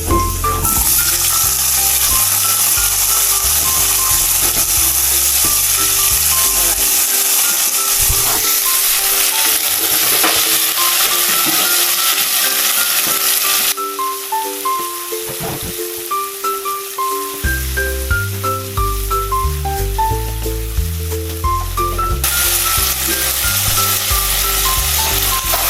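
Tomatoes sautéing with onion, garlic and ginger in a pan for pork kinamatisan, a steady loud sizzle running throughout, with occasional clinks and stirring.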